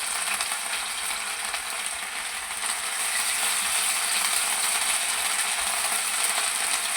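Minced-meat Multani kebabs fry on low heat in a pan, giving a steady, even sizzle and hiss that carries on without a break and with no talking.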